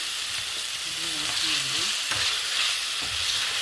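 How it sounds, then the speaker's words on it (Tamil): Kurma ingredients sautéing in a pan give a continuous close sizzle with spoon-stirring scrapes and some light clatter, at steady loudness throughout and with no talking. "இது நல்லா வதங்கி அந்த பச்சை வாசனை போகிற வரைக்கும் நம்ம வதக்கிக்கணும்"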